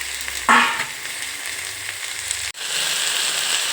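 Beetroot, carrot, beans and peas frying in oil in a pan for pulao, a loud sizzle as vegetables drop in, then a steady hiss with a brief stirring break before the frying continues.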